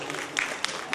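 An audience at a music and dance performance breaks into a short burst of clapping, heard under a speaking voice.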